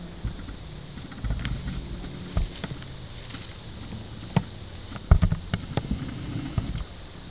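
A constant high-pitched buzzing drone of honeybees fanning their wings inside a smoked hive fills the space, with scattered soft taps and knocks nearby.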